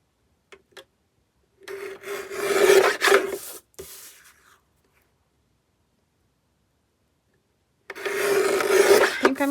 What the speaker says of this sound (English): Let's cut this part off first.